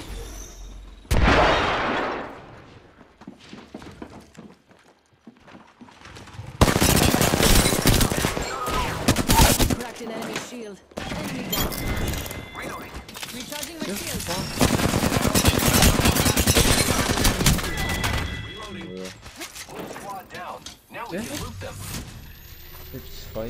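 Video game gunfire in sustained, loud bursts of rapid shots with brief pauses between volleys, mixed with combat effects and occasional clinking.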